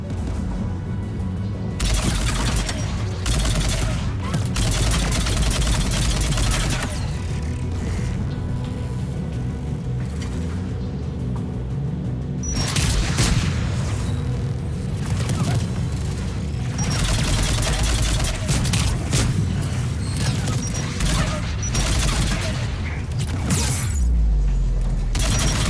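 Anti-aircraft guns in Mass Effect 3 fire in long, heavy, loud bursts with mechanical clatter, repeating across the stretch with short gaps between volleys.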